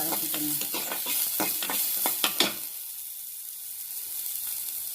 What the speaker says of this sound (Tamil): சின்ன சைஸில் ஒரு வெங்காயம் போட்டுக்கோங்க. போட்டு நல்லா வதக்கிக்கோங்க.